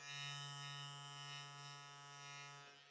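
A Klipaz MC1 charcoal hair clipper runs at its 10,000 RPM setting, giving a steady, close, high-pitched electric buzz that holds evenly for about three seconds with no talking.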